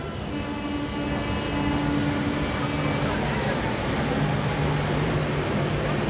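A Jhanjhra local train at Jasidih station, a continuous loud rumble of rolling wagons with faint horn-like tones and busy platform noise, recorded nearby.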